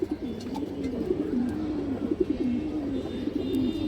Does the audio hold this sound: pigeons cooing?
yes